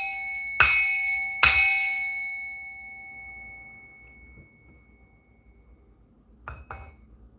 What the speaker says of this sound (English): I'm going to bang this bell